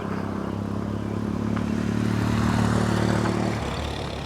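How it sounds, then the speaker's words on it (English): A motorcycle rumbles past on a rough road, its steady low drone rising and then fading near the end, heard from a moving Nakto Super Cruiser e-bike amid wind noise. "Should I race that guy on his motorcycle?"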